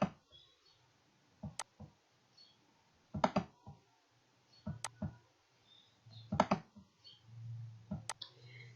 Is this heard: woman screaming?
no